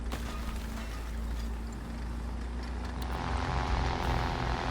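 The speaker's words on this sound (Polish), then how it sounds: "Nasz samolot, nasz samolot, ok." A friendly aircraft in the War Thunder tank battle game drones overhead, a steady propeller hum blended with the rumble of a vehicle, rising slightly toward the end with no speech.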